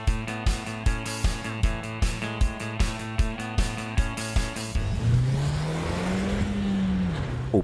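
A Ford Fiesta ST engine, heard first as a rhythmic series of evenly spaced low pulses with a steady tone, then settling into a smoother continuous drone with a rising and falling pitch sweep; close and fairly loud, with no talking.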